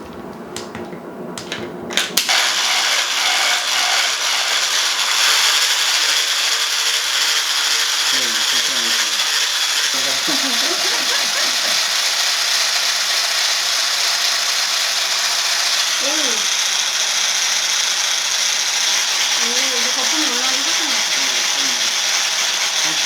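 An electric hand mixer whirs steadily and loudly after starting with a clatter, a continuous high buzzing motor with faint speech under it at times, whipping batter for rice-cooker castella cake.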